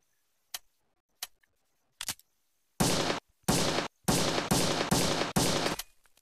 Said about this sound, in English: we got the six shooter